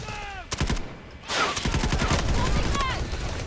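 Gunshots in the 24-versus-24 FPS game Delta Force, sharp shots followed by sustained rapid automatic fire, loud and close, with in-game voice lines and effects underneath.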